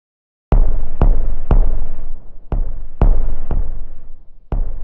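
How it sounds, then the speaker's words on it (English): A heavily detuned, booming kick drum layered over the original kick, struck seven times at a steady beat with deep low thumps and long decays, soloed with no other instruments or voices. "That is a super detuned kick drum that is layered on top of the original one."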